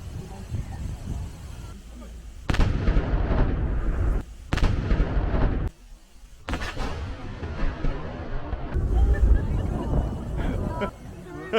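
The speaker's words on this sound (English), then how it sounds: "They're gonna hear the midday cannon fire." Midday cannon fire in Russia booming from nearby, several heavy blasts with long rumbling tails spread over a few seconds, with a crowd murmuring and people talking around them.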